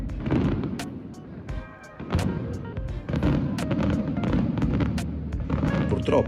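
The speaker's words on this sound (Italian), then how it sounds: "Qui potete vedere i famosi botti della sera del 3." Fireworks booming and crackling at a distance, with repeated bursts and sharp pops over a busy background.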